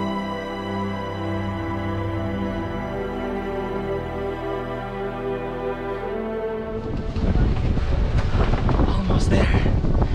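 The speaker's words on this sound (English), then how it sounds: "And it's super windy." Strong wind buffets the microphone outdoors on Temple Hill in Alūksne, Latvia, a steady roar that swells into heavier, louder gusts partway through.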